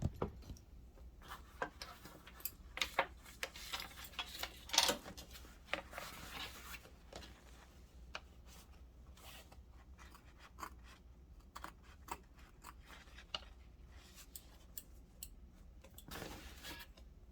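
Large double curved scissors trimming freestanding lace embroidery, heard as scattered quiet snips and clicks with faint rustling of fabric between them, close and soft.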